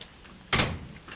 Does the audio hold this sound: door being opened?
yes